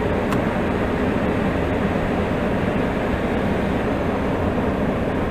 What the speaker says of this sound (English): I guess you can't hear me because of the aircon.